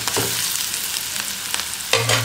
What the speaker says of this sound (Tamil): கொத்தமல்லி இப்போ நல்லா வதக்கலாம். வெங்காயம் நல்லா வதங்கிடுச்சு.